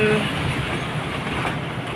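Steady broadband rumble of a diesel locomotive train like the Ooty train rolling past nearby, a continuous engine and rail roar with no pauses.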